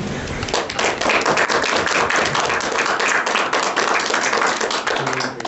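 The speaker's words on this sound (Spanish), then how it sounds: "vamos a recibir con un aplauso" An audience at an academic colloquium on art claps to welcome the panel speakers, giving steady, dense applause that fills the whole stretch at an even level.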